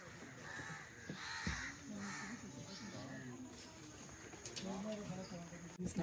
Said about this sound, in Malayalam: അവിടെ പക്ഷികളുണ്ട്.